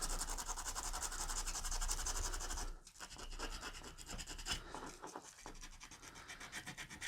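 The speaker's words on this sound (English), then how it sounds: "I'm just going over the rest of the carving, just taking the edges off" Up close, a wooden mushroom-man carving is hand sanded, its edges eased with continuous soft scratchy rubbing strokes in a steady rhythm that varies slightly in intensity, with no voices.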